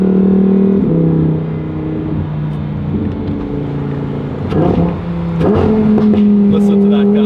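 A Lamborghini Huracan Tecnica engine revs from inside the car on the road, a steady droning growl that rises and falls with crackling exhaust pops mixed in, and people talk over it at times.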